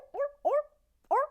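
A human voice imitates a seal barking, giving three short nasal barks, two close together and a third after a pause, clear and near.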